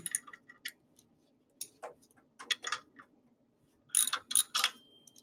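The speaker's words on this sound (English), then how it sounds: "Next, remove the belt." Belt being removed from a machine, a series of sharp mechanical clicks, ratcheting ticks and rattles in uneven bursts, close and fairly loud with no voice over it.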